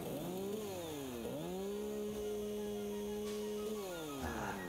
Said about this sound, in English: Only a chainsaw can solve my problems right now.